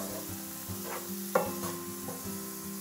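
Rosemary being stirred into sizzling sausage and diced tomatoes with their juices in a pan, a spoon scraping and clinking in a few strokes over a steady low frying hiss, close and moderately quiet.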